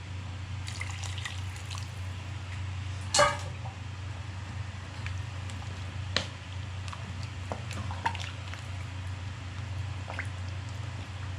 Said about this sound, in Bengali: পানি দিয়ে দেওয়া হলো পরিমাণ মতো।